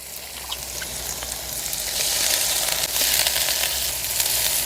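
Washed, squeezed mutton intestine hits a hot wok and fries with a loud, dense hiss that builds and holds steady, with faint stirring clicks underneath.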